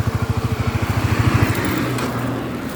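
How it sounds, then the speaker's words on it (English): A motorcycle engine idles with a rapid, even putter that cuts out partway through, leaving the steady rushing of a waterfall in the background. "Let me turn off my motorcycle."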